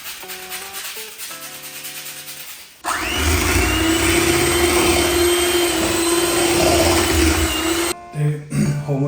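A mixer grinder whirs loudly and steadily for several seconds as it blends a cake batter with vanilla essence and orange, starting and stopping abruptly, with brief clinks before and after.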